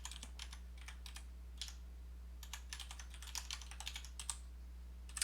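Rapid bursts of keystrokes on a computer keyboard while entering code in Mathematica, fairly close and clear, with short pauses between runs of typing over a steady low electrical hum.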